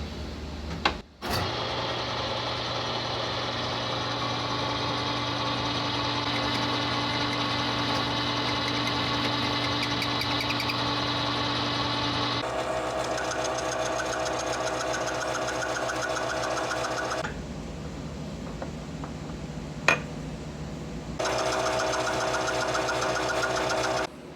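A custom ground form tool cuts the domed top of a nut on a lathe, a steady machining drone with a constant whine. The tone shifts abruptly twice as the cut changes, with a brief quieter gap near the end.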